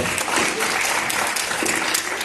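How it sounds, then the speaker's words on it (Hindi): Applause from a student audience at a Physics Wallah session in New Delhi, a dense, steady wash of many hands clapping that stays loud and even for the whole stretch, with no speech over it. "जोरदार तालियां भाई"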